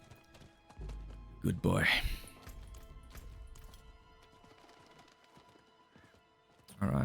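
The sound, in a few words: horse galloping and neighing in Diablo 4 video game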